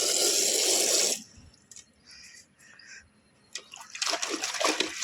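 Water is splashed and poured across a hall floor being washed after wedding preparations, a loud rushing gush for about a second, then quieter scattered splashes before a second burst of sloshing water near the end, all close by.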